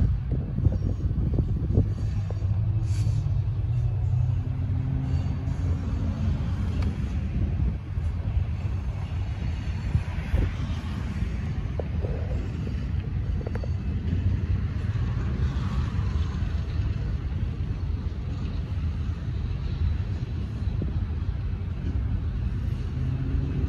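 CCTC Lodi Flyer local train rolling back into Stockton, a steady low rumble of the passing consist under constant wind buffeting on the microphone, close and loud throughout with no horn standing out.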